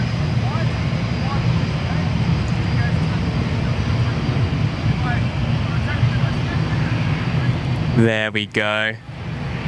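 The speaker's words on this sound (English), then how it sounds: "Relatively quick takeoff from the Mustang there." A Cessna Citation Mustang jet takes off at an airport, a steady broad engine roar holding throughout at a distance, before someone speaks briefly near the end.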